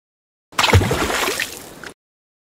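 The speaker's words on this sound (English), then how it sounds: "You guys will be splashed." Water splashes onto quiz contestants, one loud close gush and slosh lasting just over a second, then stopping abruptly.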